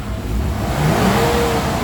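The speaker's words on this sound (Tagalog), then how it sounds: "So ito, galit na galit ng makina." Gasoline engine of a Mitsubishi Adventure revving hard while its RPM gauge is being repaired. It gives a loud, steady, close roar held at high revs, with no talking.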